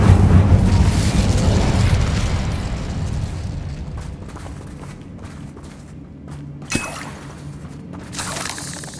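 Incendio fire spell cast in Hogwarts Legacy, a loud burst of roaring flame that fades gradually over several seconds, followed by a sharp crack and a smaller burst near the end.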